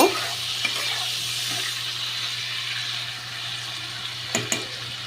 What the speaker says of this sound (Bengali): আমি খুব সামান্য একটু হলুদ দিয়ে দিয়েছি চিংড়ি মাছটাকে ভেজে নেব